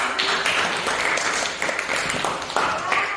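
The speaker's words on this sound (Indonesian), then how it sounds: "Kita beri tepuk tangan" Students in a classroom clap during a lesson on the respiratory system, a close, loud burst of uneven clapping with irregular hand taps throughout.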